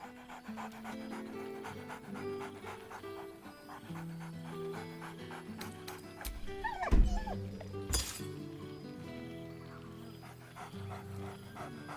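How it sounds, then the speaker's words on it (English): Scratch, the dog in Baldur's Gate 3, pants steadily over a layered game music bed, with a brief sharp bark and a thump standing out near the middle. "Scratch barks merrily in something like agreement."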